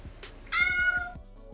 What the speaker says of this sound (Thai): แล้วก็มีแมวด้วยครับที่สำคัญมีแมวในเวอร์ด้วยครับ